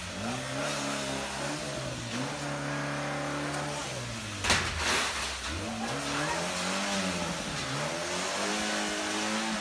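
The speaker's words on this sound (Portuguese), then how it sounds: "Ele acelera tão fundo que dá pra ver fumaça saindo do motor do carro." A car engine revs hard and loud at high throttle, pitch rising and falling in repeated surges, as a man drives it into a shop's door and frame again and again, smoke coming from the motor.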